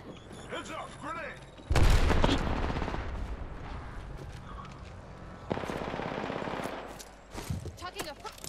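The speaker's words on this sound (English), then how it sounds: "Making contact with enemy. Behind me. Getting shot at." Gunfire in the shooter game Apex Legends: bursts of automatic shooting and heavy booming impacts come in sustained waves with mechanical clatter, moderately distant, while voices talk intermittently over the fight.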